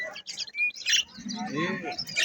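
A wild blackbird at a bird market in Jizzakh gives short bright chirps and calls in bursts, mixed with nearby chatter and other market sounds.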